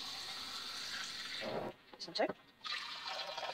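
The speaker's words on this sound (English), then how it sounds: "it's a surprisingly small amount of water that you need to fill up each jar" Water is poured into jars to make a sugar solution: a steady, hissing pour that briefly stops and then resumes, with a single spoken word in the gap.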